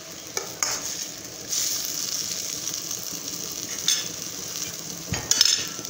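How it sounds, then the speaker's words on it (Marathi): Hadsan wild greens are stirred with salt in a hot pan, the spoon scraping and clattering in short bursts over a steady soft sizzle, close by with no talking. "भाजी मिक्स करून घेऊ।"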